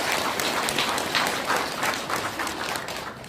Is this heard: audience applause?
yes